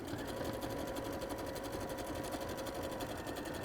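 A sewing machine runs a blanket stitch on fabric at a Christmas makes sewing event, a steady rapid mechanical chatter that continues evenly throughout at a moderate level, with no pauses.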